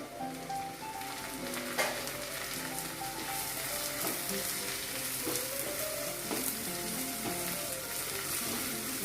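Onion, carrot and green peas sauté in a pan, giving a steady close sizzle with occasional stirring scrapes throughout, and no voices.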